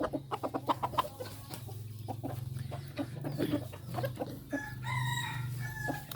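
A decoy fighting rooster with a big voice crows loudly nearby, a long strained call, with clucking and other fowl sounds around it and no talking, in the evening.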